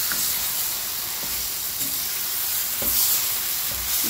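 Guajillo chile sauce, ground with a little garlic, hisses and sizzles steadily in a pan as it heats toward a boil, with a few soft bubbling pops close by.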